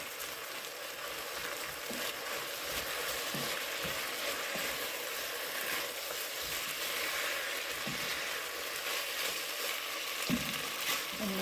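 One whole chopped onion browns in a pan for Irish stew, giving a soft continuous sizzle with occasional faint stirring clicks, fairly quiet and steady throughout with no talking.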